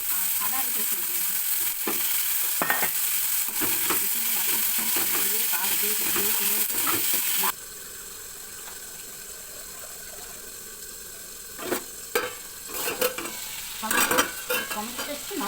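Tomatoes frying in a pan with steady sizzling and stirring scrapes for several seconds, then a quieter stretch with faint running-water hiss and a few renewed stirring clatters near the end.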